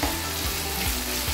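Carrots are stirred in a pan with chicken for a vegetable chicken pulao and fry with a dense, loud, close sizzle for a brief moment, with faint music behind.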